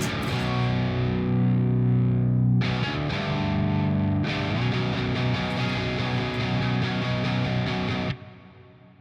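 Heavily distorted electric guitar rings out in sustained open ninth and eleventh chords, pausing briefly and restarting twice before cutting off near the end, no voices.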